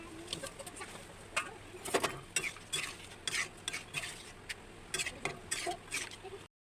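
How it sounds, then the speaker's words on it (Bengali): Egg and potato curry simmers in a pan as eggs go in, with soft stirring scrapes and light sizzling bubbles in short bursts, plus faint cooing birds in the background. "ঝোল ফুটে গেছে, ডিমটা দিয়ে দেবো"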